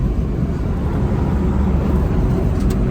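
A Ford Ranger with a coil rear conversion rolls up a driveway, heard as a loud, steady low engine and road rumble from inside the cab.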